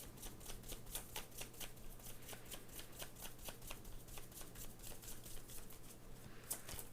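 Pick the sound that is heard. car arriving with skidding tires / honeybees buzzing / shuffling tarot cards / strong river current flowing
shuffling tarot cards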